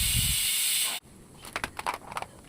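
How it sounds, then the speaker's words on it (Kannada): Loud steady hiss of steam escaping while kadubu dumplings cook, cutting off abruptly after a second, followed by faint clinks and kitchen noises. "ಈ ಕಡುಬು ಈ ಥರ ಸ್ಟೀಮ್ ಇಟ್ಟು ಬೇಯಿಸೋ ಅಂಥದ್ದಲ್ವ"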